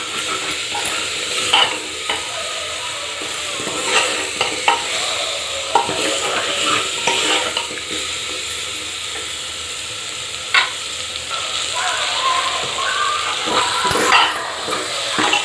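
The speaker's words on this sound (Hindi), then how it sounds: "इसमें मैं आलू ऐड करूँगी। इसे भी अच्छे से 1 मिनट के लिए भूनें।" Potatoes sizzle steadily in hot oil with roasted spices while a spoon stirs and scrapes the pan in irregular clatters, close and continuous for the whole stretch with no voices, as part of cooking Odia aloo dum.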